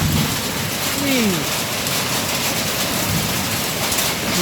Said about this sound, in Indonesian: Wow, hujan es.